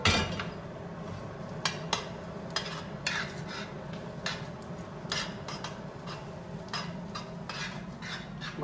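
Pasta for a carbonara-style dish with bacon being stirred and finished over high heat in a pan: a steady, close sizzle broken by repeated sharp scraping and knocking strokes of the utensil.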